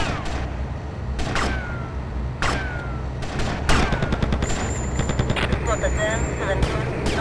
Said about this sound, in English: This shotgun helps so much.